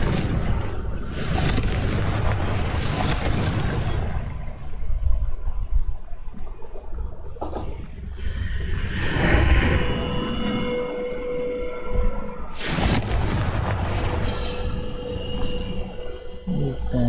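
A Confringo fire spell explodes in Hogwarts Legacy, with loud, dense rumbling blasts that repeat over a constant roar of battle noise, and no one talking.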